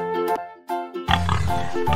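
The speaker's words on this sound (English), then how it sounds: "P for pig." A cartoon pig oinks in a short, rough grunting burst that cuts in over bright, bouncy children's nursery music with a simple melody, in an ABC phonics song for toddlers.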